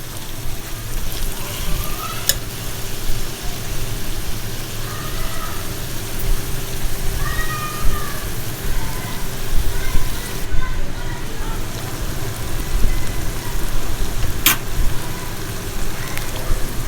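Coarsely ground fresh coriander frying for chicken biryani gives a steady, rain-like sizzle throughout, with a few faint clinks along the way.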